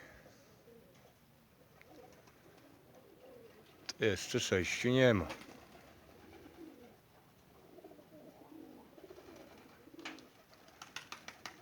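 Pigeons coo in a short burst of soft, throaty calls, with quieter bird sounds and murmured talk around them.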